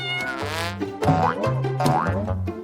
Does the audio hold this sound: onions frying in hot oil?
no